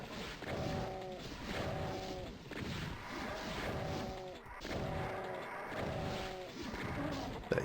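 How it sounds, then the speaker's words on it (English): Gunfire from Plutonia's Onslaught map in Final Doom, shooting cacodemons: loud, booming shots in a regular rhythm about every 1.5 seconds, each followed by a short tonal game effect. "Going to shoot the cacodemons in the face."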